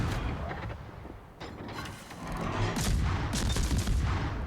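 Naval gunfire in the World of Warships game, with a US destroyer battling the battleship California: muffled booming salvos and rattling mechanical sounds, building in intensity toward the end, with sharp bursts standing out over a rumbling background.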